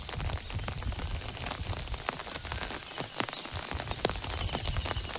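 Heavy rain pouring steadily through the night, a dense, continuous hiss and patter on surfaces with scattered louder drops, no voices.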